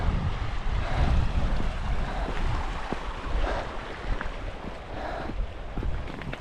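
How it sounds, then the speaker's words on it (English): Creek water rushing steadily at Jenny Creek in the Alaska Range, a continuous broadband wash heard up close, with gusts of wind buffeting the microphone and no voices. "This is Jenny Creek, and looks like I'm in some luck."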